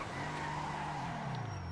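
An Enus Jubilee in GTA Online brakes hard, its tires skidding in a short continuous screech over the engine's falling drone.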